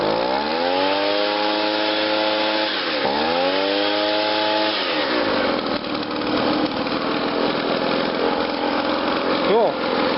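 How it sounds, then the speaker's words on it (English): Echo PB-2100 handheld leaf blower on a test blow: steady two-stroke drone revved up and down a couple of times before settling into a rough, full-throttle rush of air, close and loud. "I guess I can give her a little test blow."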